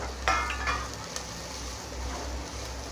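Black mutton with ginger, garlic and tomato being stirred in a pan, a soft steady sizzle under a few scraping strokes of the spoon, close and moderately quiet.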